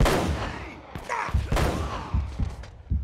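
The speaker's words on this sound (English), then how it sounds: "Two shots." Gunfire in the video game Uncharted: Drake's Fortune, a few sharp close shots and thuds spread over a few seconds, with a faint voice in the background.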